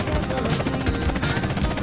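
Maverick helicopter in GTA San Andreas during a desert race, rotor thudding in a steady rapid pulse with broad engine roar, loud and close.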